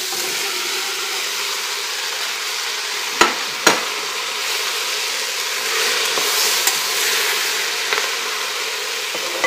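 Two chopped zucchini and three carrots, cut into chunks, sizzling and frying in a pot with a steady hiss, with a couple of sharp utensil knocks as they are stirred.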